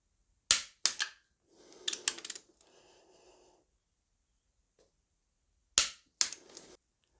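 A torque wrench gives sharp, close clicks as engine bolts are tightened to 65 foot-pounds, first a pair, then a scraping, ratcheting stretch, then quiet, and finally two more clicks.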